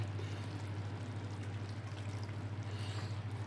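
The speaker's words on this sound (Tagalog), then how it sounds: "Ang tubig na ilalagay ko ay yung pinagpakuluan ko." Cooking water from boiling pours steadily onto octopus and sweet potatoes in a pot, a continuous close trickle over a low hum.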